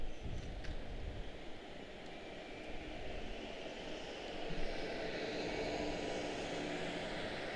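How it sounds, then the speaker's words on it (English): An airliner rolls down the runway on departure from Washington Dulles, its engine rumble rising gradually from moderate to louder as the distant, low roar builds steadily. "Cape Town's going to make her way out. She is rolling steadily."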